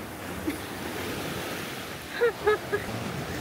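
A high sea rolls onto the shore in the early morning, making a steady broad wash of surf mixed with wind on the microphone. A few faint, brief chirps rise above it near the end.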